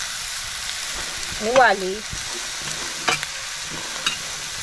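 Pumpkin, ridge gourd, snake gourd and okra being stir-fried together in a pan, with soft sizzling and a few scraping stirs, while someone speaks briefly over it.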